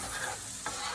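Cajun shrimp in sauce is stirred in a pan, a quick scrape over a steady sizzle in a short burst with no talk.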